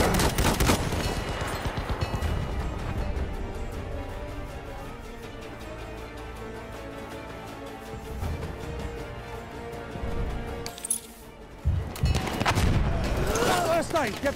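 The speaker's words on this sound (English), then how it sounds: "Look out! Machine gun!" Sustained gunfire in the World War I shooter Battlefield 1, with rapid bursts and heavy shots rolling nearly nonstop, dipping briefly before surging back loud, mixed with battlefield clamor and shouting voices.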